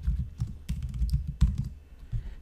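Email being typed on a computer keyboard: close, quick irregular clatter of keystrokes in short bursts with brief pauses, no voices.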